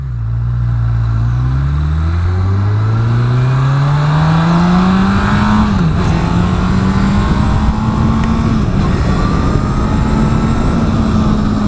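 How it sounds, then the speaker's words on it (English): Honda CB1000R motorcycle engine and exhaust howling loudly and continuously while riding on a road, pitch climbing steadily as it accelerates through the gears, with a brief dip at a shift. "Actually, the exhaust has a lovely howl about it."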